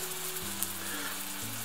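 Eggs and sausages fry in a pan with a steady, close hiss and sizzle, alone with no talking.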